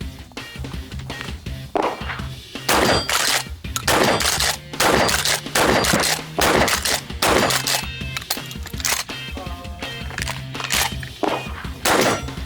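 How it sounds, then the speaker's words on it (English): A shotgun fired again and again at an outdoor range: loud, sharp blasts come in an uneven series over several seconds, with short gaps and a low background rumble between them. "All right, shooting Brandon's zombie gun here"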